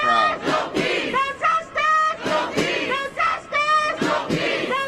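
A large, masked crowd at a live street event shouts and chants in loud, rhythmic bursts, dense overlapping voices filling the short stretch.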